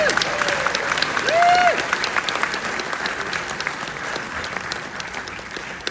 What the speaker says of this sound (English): this man here does deserve all these applause